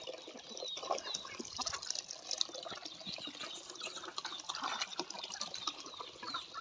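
Water pumped out by a hand pump: a faint, continuous splashing trickle of water pouring and gurgling, with no voices.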